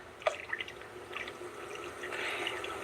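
Water poured into a seedling nutrient container, a soft trickle and dripping with light splashes, faint and close in a quiet indoor space.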